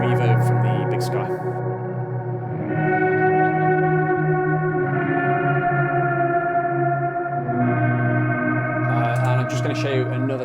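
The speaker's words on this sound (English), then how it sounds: "So quite a dark, warbled, tape sounding delay." Electric guitar played through a dark, warbling tape-style delay with El Cap added and heavy horn-like reverb from a Bigsky, sustained chords ringing and shifting over ten seconds with wet, wavering echoes.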